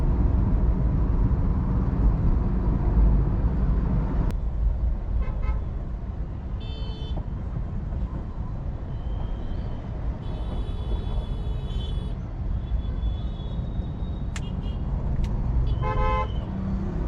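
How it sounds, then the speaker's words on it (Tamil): Steady roar of road traffic on Pallavaram Radial Road in Chennai, engines rumbling, while several car horns toot in short bursts, some near and some farther off. "பயங்கர டிராஃபிக் பண்ணி விட்டாங்க"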